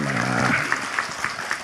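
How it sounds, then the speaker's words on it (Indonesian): An audience claps for Gus Ulil at an Islamic religious gathering, a short burst of applause mixed with voices and cheering. "Tepuk tangan kagem Gus Ulil"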